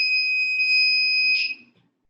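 Electronic buzzer on a light sensor circuit sounds a steady, piercing tone for about a second and a half, close and loud, then cuts off abruptly.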